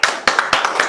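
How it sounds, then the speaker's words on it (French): A handful of people clapping at a family gathering, roughly six or seven sharp, uneven claps in under a second, close and fairly loud with no talking. "Applaudissez donc."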